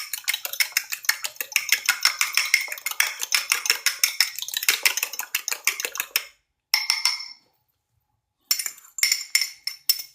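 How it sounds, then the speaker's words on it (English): Whisk or fork beating eggs against a bowl for a sweet potato casserole: rapid, steady clinking strokes, loud and close, with two brief pauses near the end before the beating resumes. "beat these eggs a little bit before you add them in"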